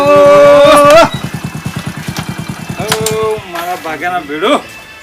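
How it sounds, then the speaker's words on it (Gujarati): A motorcycle engine putters and rattles in rapid, even pulses, with voices calling out over it at the beginning and near the end. "બાઇક તો ખખડા"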